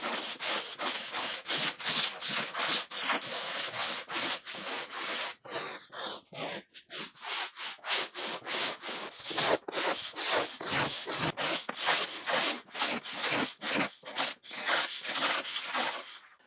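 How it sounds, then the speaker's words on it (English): Card scrapers working a cedar strip kayak deck make a steady run of rhythmic scraping strokes, close and fairly loud, each stroke a sharp rasp with short pauses between, and no voices. "Next we'll scrape the deck with card scrapers, taking off the corners and any high spots."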